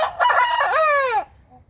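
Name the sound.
Delaware chicken crowing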